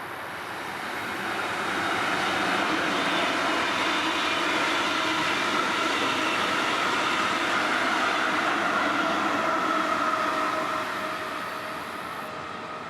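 Brightline passenger train 723 rounds a sharp banked curve at about 50 mph on the Florida East Coast Railway, a broad rushing roar that swells in, holds loud and steady for several seconds, then eases away.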